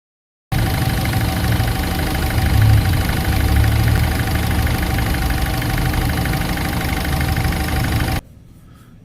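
A car engine starts after a home general service and settles into a steady, loud idle close by, running evenly for about eight seconds before it cuts off abruptly.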